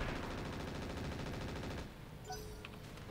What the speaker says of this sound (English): 6 shots on the machine gun